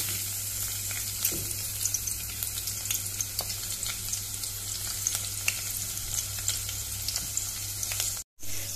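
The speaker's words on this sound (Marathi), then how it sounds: "आतां तोप गॅसीर दवरला आनी तातूंत न्ही तेल घातलां आनी आतां भितर कितें करपाचें, लसूण आसा पळय ती घालपाची" Garlic fries in hot oil in a pan on a gas stove for Goan dry prawn curry, a steady close sizzle with light stirring clicks and a brief cut near the end.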